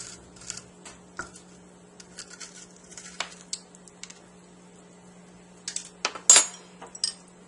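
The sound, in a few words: scraping stringy strands out of roasted spaghetti squash with utensils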